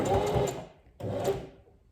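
Two short bursts of a sewing machine backstitching rapidly, each stopping abruptly, close by with no talking.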